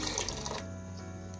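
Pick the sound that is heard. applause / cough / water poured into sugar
water poured into sugar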